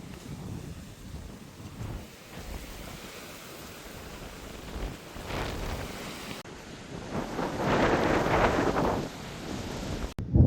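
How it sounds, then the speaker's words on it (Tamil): Strong wind blows across Valli Malai hill, rushing and buffeting the microphone in uneven gusts that build louder toward the end, with no talking. "காற்று வந்து சரியாக பலமாக வீசி கொண்டிருக்கு"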